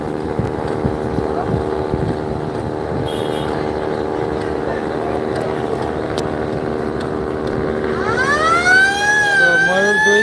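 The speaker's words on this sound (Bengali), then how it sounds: "ময়ূর দুই ছেড়ে যাবে ঢাকা থেকে চাঁদপুরের উদ্দেশ্যে" A passenger launch leaves Sadarghat in Dhaka, bound for Chandpur, amid busy river traffic. A long, loud horn drones under engine rumble, and a wavering, rising whistle-like tone joins near the end, with voices faintly in the background.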